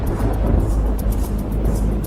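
Steady, loud thunderstorm rumble on a stormy evening in South Philadelphia, with a dense low roar and faint crackling overhead throughout, and no voices.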